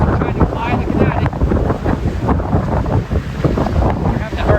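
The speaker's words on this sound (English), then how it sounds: "these waves crashing" Ocean waves crashing along the Dallas Road shoreline in Victoria, BC during a winter storm with high winds, heavy roaring surf buried under strong buffeting wind noise on the microphone.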